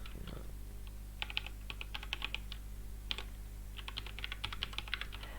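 Someone types a personal email address on a computer keyboard, making quiet, irregular bursts of crisp key clicks separated by short pauses, with no voices.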